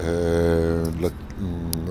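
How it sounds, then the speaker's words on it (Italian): A Groppo Trail light taildragger aircraft engine idles steadily on the ground, producing a continuous harmonic drone that stays constant throughout, with a brief clatter partway through. "Ecco, abbiamo già il motore acceso"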